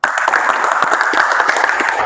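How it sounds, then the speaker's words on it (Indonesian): Steady, loud applause from a class of students during a pencak silat lesson, dense clapping filling the full stretch without pause. "Tepuk tangan dulu."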